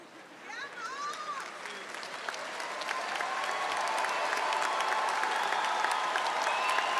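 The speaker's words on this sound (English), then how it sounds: "All right, a round of applause for these graduates." Sustained audience applause at an LSU summer 2022 commencement ceremony for the graduates, starting lighter and swelling into a steady, dense wash of clapping with scattered voices in the crowd.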